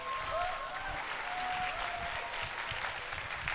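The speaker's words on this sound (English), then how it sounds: "another big, big round of applause, everybody" Audience at a sales promotion ceremony in Atlanta giving a steady round of applause, dense and continuous throughout, with faint voices mixed in early on.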